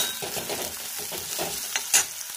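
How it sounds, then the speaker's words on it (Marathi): Green chilies frying in oil in a pan for upma, a close, steady sizzle with stirring scrapes and a couple of sharper clinks, no talking. "तर इथे मी गॅस थोडा फुल करते आणि मस्तपैकी असं फ्राय करून घेणार आहोत"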